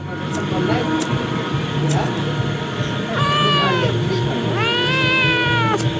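A white cat meows nearby at night in Rajshahi, two long drawn-out meows over a steady background hum, while people talk.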